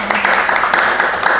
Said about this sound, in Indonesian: Tepuk tangan buat kita semua dong.